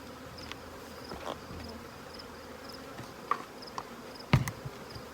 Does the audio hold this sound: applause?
no